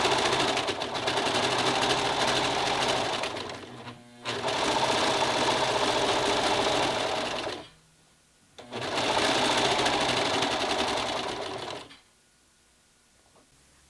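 A serger overcasts a fabric edge at a sewing table, running in two long loud bursts of steady rapid whirring and stitching, each several seconds, separated by brief pauses and ending in quiet, with no talking.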